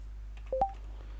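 Telephone dialing tones from the video game Goose Goose Duck: two quick touch-tone beeps in a row, clear and close over a low steady hum, with no talking.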